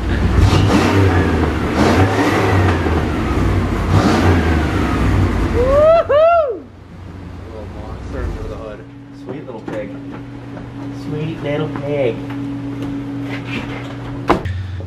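A Dodge car engine revs loudly several times up front, then drops off sharply to a quieter idle with some clunks and a brief sharp knock, and a voice talks over it.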